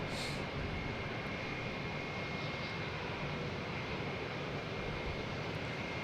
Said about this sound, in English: So the Cape Airs will be coming in here hot and heavy on 4 left